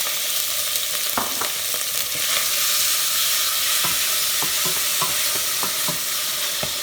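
Chopped large onion sweats in a tablespoon of olive oil in a large pan, giving a loud, even sizzle with repeated scraping ticks from stirring, close up and without voices.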